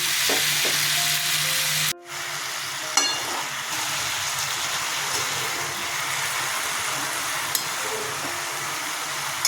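Potatoes and red amaranth greens fry in a hot pan with a loud, steady sizzle, broken by a short clatter and a brief dip, then continuing evenly throughout.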